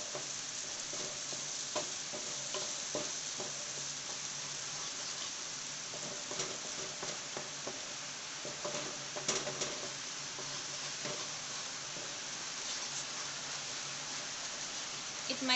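Paneer butter masala mixture sautéing in a pan until it releases oil, a steady sizzle with scattered spoon-scraping stir clicks throughout, close and fairly quiet, with no talking.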